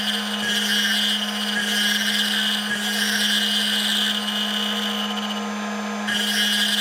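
A power tool spins a rescue bit at 12,000 RPM, giving a close, steady high-pitched whine over a low hum, with faint periodic ticks throughout.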